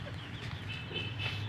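Backyard chickens, hens with roosters and chicks nearby, cluck and murmur steadily at dinner feeding, a continuous soft flock chatter with a few higher calls, close and moderately quiet, no talking over it.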